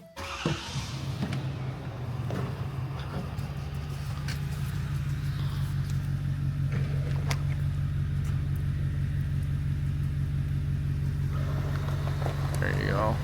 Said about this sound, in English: I got to start the engine for that.